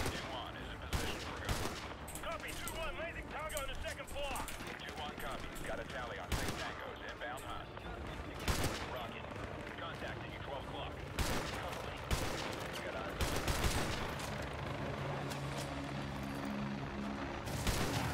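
Rapid gunfire bursts and sharp single shots in Call of Duty Modern Warfare 2 Remastered's Gulag on Veteran difficulty, repeated at irregular intervals over a dense, steady battle din, with occasional speech.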